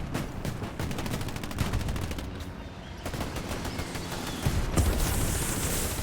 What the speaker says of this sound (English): Duba with the long shot, which stops the tank on its tracks.